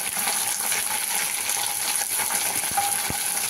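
Chopped chilli dropped into hot oil for chira pulao, giving a steady, dense sizzle and crackle that runs throughout without any voice.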